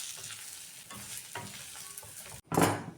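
Stuffed eggplants and masala stir-fried together in a pan over low heat: a soft, close sizzle with gentle scraping stirs, ending in a louder burst of frying and scraping.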